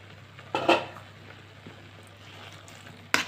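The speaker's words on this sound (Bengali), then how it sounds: "ঢাকনাটা এখন খুলে নিব।" A metal lid is lifted off a cooking pot of gourd leaves, with a clanking knock followed by a short rattle, a quiet stretch, and a second sharp clink as the lid is set down.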